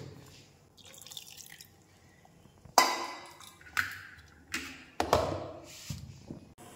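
Water trickles and drips into a ground paste for rosbora batter, a few distinct splashes and drops landing close by against a quiet background, with no voices.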